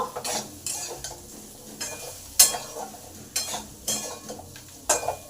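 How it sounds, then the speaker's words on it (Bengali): Potatoes and ground spices stirred in a pan for a chholar dal, with a light sizzle under repeated sharp clinks and scrapes of a spoon against the pan at irregular intervals. "এবার সব মশলাগুলোকে ভালো করে আলুর সঙ্গে নেড়ে নেব।"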